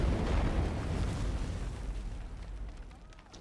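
A deep, rumbling explosion in the video game Sniper Elite 4 booms and slowly fades, its heavy roar rolling out over a few seconds with no talking.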